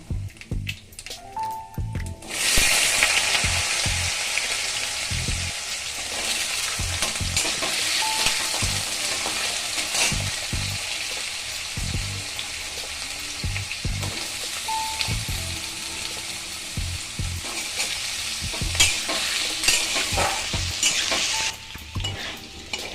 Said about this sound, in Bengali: দেখুন আলুগুলো ভাজা ভাজা হয়ে এসছে